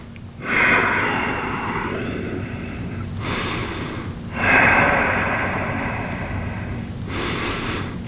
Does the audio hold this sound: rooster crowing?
no